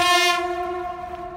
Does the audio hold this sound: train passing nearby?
yes